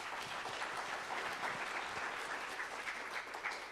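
A debate audience gives steady, dense applause for the whole span, many hands clapping together in a soft, even wash that sounds slightly distant.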